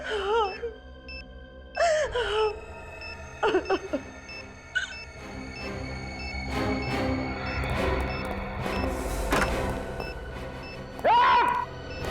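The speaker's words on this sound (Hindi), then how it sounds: "रोने की आवाज?" A voice wails and sobs in bursts amid a busy, echoing soundscape with thuds and tonal hums, the crying rising sharply near the end.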